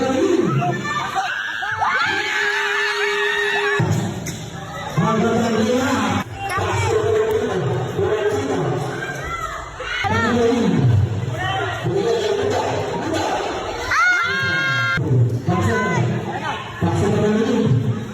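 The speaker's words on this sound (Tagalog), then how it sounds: "panoodin nyo po kung paano sumigaw yung mga pinsan ko" Excited relatives shout and cheer from the stands at a league basketball game, with loud crowd roar, screams and babble continuing throughout, and whistle-like calls cutting through near the end.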